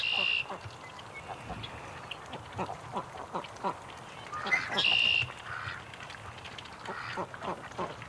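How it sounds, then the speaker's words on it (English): Scattered duck quacks, several close together, outdoors by a creek, with two brief higher squeaky calls, moderately loud. "we got some hardcore ducks here"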